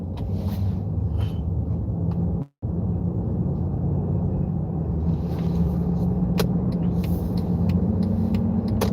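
A car drives along with a steady low engine and road rumble throughout, a brief dropout near the start, and light clicks and rattles above it; no talk.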